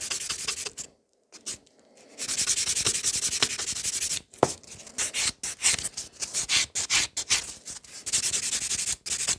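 A sculpted coffin-shape fiber gel nail buffed by hand, with close, rapid rubbing and sanding strokes in steady bursts and a brief pause early on.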